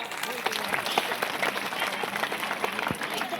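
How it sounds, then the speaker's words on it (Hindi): Loud applause from a crowd at a village Mahashivratri and community hall inauguration event, dense steady clapping throughout with voices mixed in. "जोरदार ताली बजाओ"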